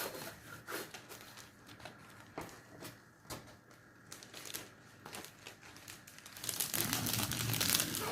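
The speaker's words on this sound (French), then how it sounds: "je vais remettre le plastique bien comme il faut" Plastic film being pressed back onto a craft product, with close, continuous crinkling and rubbing that swells louder toward the end, and no talking.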